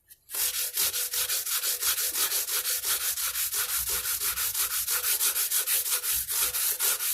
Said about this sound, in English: Just let the tool and the abrasive do the work.